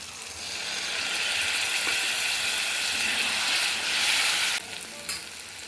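A cooked-down spice masala fries in oil in a pan as sauces are poured in, giving a steady, close sizzle with stirring and scraping, then a sudden drop in the hiss toward the end, no talk.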